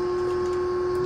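The electric brakes of a 2012 Tiffin Allegro Open Road 30GA motorhome engage as the key turns, giving a steady, even electrical hum that holds without a break.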